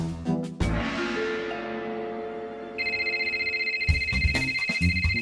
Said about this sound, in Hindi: ओए, मोबाइल है, डोरबेल नहीं जो बजाया जा रहा है।